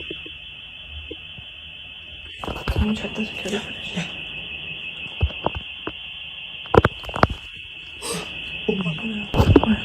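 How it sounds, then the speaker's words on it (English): A house alarm sounds in a bedroom as one steady, high-pitched, piercing tone that runs through the whole clip, with frightened voices talking over it and some handling noise. "their house alarm suddenly goes off"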